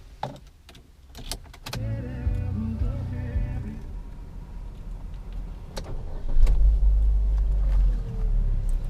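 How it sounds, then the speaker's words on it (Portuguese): A 2016 Chevrolet Cobalt Elite 1.8 with a six-speed automatic, heard from inside the cabin: brief clicks and whirs, then the engine cranks, catches and settles into a steady idle rumble that swells again toward the end. "Vamos ligar o carro?"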